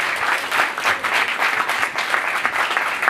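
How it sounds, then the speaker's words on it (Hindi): A congregation at a Christian worship service claps loudly and continuously, a dense, steady wash of applause from many hands. "ऐसे खुदा के लिए जोरदार तालियां बजाएं।"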